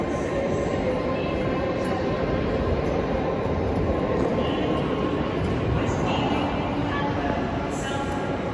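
A London Underground train rumbles steadily into Paddington station, a continuous loud low roar with faint squeals above, while people talk in the background.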